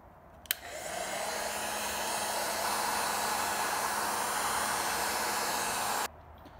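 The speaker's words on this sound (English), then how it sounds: "I used the heat gun to heat up a little bit" A heat gun warms 3M adhesive tape on a Mustang spoiler, clicking on and then blowing with a steady, loud, airy whoosh for several seconds before cutting off abruptly.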